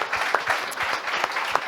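An audience at a closing evening of an international week event in Nantes applauds, a dense, even wash of many hands clapping for the whole brief moment.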